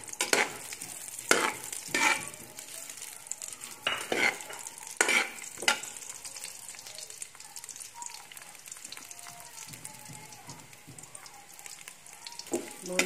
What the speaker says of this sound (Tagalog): Una nating igigisa ang luya.